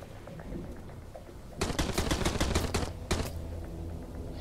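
Enemy shotgun blasts in Sunkenland during an assault on a large fortress: a dense, loud cluster of sharp shots fires in quick succession, then one more report follows after a brief pause.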